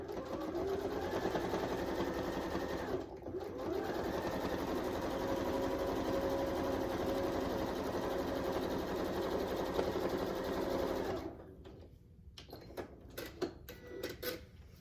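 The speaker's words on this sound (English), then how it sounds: "stitch that line 1/4 inch off of the blue line, making sure I'm outside of the blue line when I start stitching" Sewing machine stitches a quilt-as-you-go Christmas stocking, a close, steady mechanical whir with one short pause near the start, running for about eleven seconds before stopping into quiet fabric handling and clicks.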